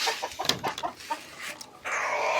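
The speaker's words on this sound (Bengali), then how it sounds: "আর ছাদে এই পাশে আছে হলো আমাদের এই মুরগির ঘরটা।" Chickens in a rooftop coop holding about thirty birds, large and small, giving a quick run of close, sharp clucks and squawks that give way to a soft hiss of background noise.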